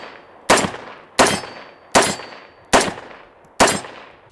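A CMMG MK47 Mutant rifle fires five sharp, loud semi-automatic shots at an even, unhurried pace outdoors, each crack followed by a short decaying echo.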